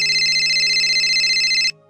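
A phone ringtone chimes in a steady electronic warble, close and clear, for under two seconds before stopping abruptly.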